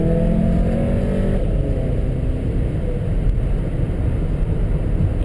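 A 2017 Volkswagen Golf SportWagen Alltrack pulls hard up an on-ramp, its engine note climbing briefly before giving way to a loud, continuous roar of engine and road noise.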